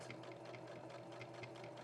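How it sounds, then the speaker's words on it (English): Sewing machine stitching a fabric liner for a reusable hygiene product, a steady quiet mechanical whir with a fast even rhythmic ticking throughout, close by and with no talk. "right now the key is just to get to know your sewing machine"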